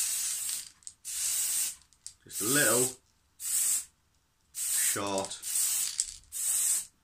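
A spray paint can fires short, sharp bursts onto a wolf miniature from A Song of Ice and Fire, about seven hissing blasts close by with brief pauses between them, while someone talks briefly in between.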